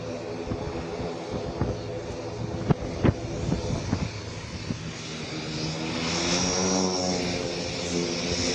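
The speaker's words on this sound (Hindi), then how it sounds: "पूर्वांचल एक्सप्रेसवे की तस्वीर आप देख रहे हैं, जहां हर्क्यूलिस को लैंड कराया गया है।" A Hercules transport aircraft lands on the Purvanchal Expressway airstrip, its propeller engines droning loudly and steadily with a rising whine, thumps and rattles near the start, heard at a distance without talking.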